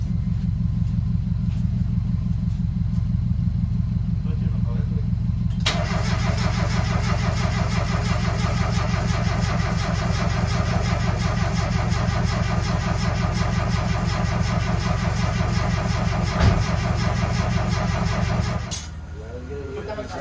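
A car engine cranks and runs on a jumper pack for a boy's first car in a garage, a loud close rumble that holds steady with a brief shift partway through and cuts off near the end, with voices over it.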